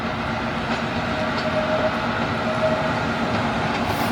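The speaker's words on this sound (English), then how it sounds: "And there's a subway coming." A TTC subway train passes through the Greenwood subway yard with a steady, loud rolling rumble and faint wheel clatter that holds throughout, with no talking.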